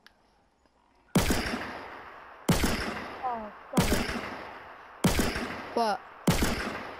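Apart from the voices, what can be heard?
gunfire in the video game Fortnite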